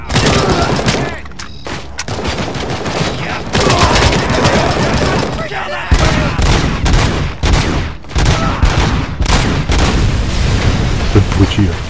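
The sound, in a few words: grenade explosions and gunfire in video game Robocop: Rogue City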